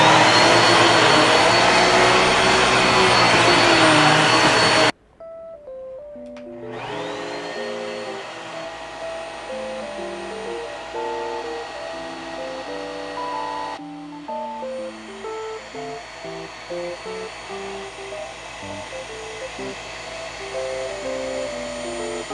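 A Genie UV vacuum cleaner runs loud and close with a steady whine and a strong airflow roar. It cuts off abruptly, and soft instrumental music then continues on its own.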